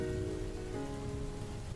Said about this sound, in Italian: la pioggia è battente.